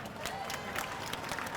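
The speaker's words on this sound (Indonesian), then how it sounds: "Tepuk tangan untuk Bali" An audience at a Bali development launch event applauds for Bali, producing a steady, moderately loud patter of many hands clapping with a faint crowd murmur beneath.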